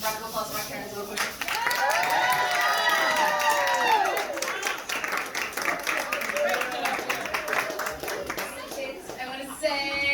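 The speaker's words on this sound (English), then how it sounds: "round of applause for my parents real quick" A party crowd claps and cheers for a speaker's parents, with sustained mixed clapping and whoops, and excited voices calling out over it throughout.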